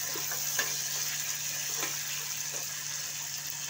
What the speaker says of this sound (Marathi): आता लसूण चांगला फ्राय होऊन द्यायचं याच्यामध्ये। टमाटर पण चांगलं परतून घेऊया।